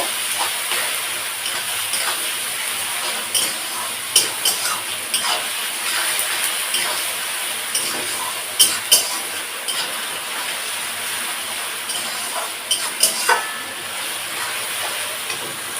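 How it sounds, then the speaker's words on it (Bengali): Onions salted in a pan for a meat curry fry with a loud, steady, close hiss, scattered crackles and spits popping out now and then. "পেঁয়াজটা আমি একটু খুব ভালো করে ভেজে নেব।"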